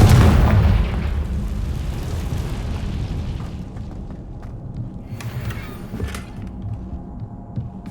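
A Confringo fire spell from the Hogwarts Legacy video game goes off as a heavy booming blast, then a low rumbling tail decays over several seconds with faint crackles.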